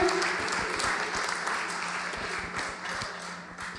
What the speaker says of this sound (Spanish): Se van a aplaudir, señores